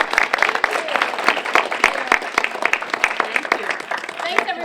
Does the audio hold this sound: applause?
yes